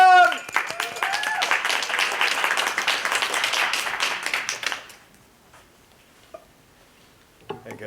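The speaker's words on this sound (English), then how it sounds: "Round of applause." Audience applause at a poetry slam: lively clapping for about five seconds, then it fades into near silence with a faint voice at the very end.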